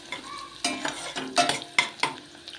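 Onions with green chillies stirred in hot oil in a pan for a mutton gongura curry; a spoon scrapes in several distinct strokes over a soft, steady sizzle, close up with no talking.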